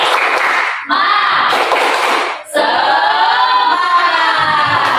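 Group spirit clapping (tepuk semangat) by a class, rapid rhythmic claps in bursts with brief pauses between patterns, loud and close, mixed with some voices.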